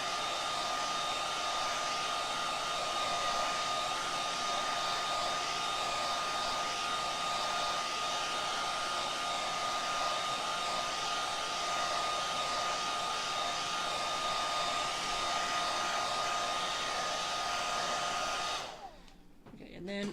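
A hair dryer blows steadily and loudly to dry the painted eye of a small crab craft made from scrap wood, running for nearly the whole stretch before cutting off near the end.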